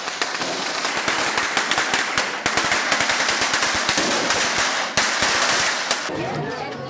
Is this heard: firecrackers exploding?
yes